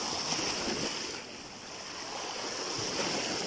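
Surf rolls against the shore at Marawi, a steady broadband wash of breaking waves with a slight lull midway, mixed with wind noise buffeting the microphone and no voices.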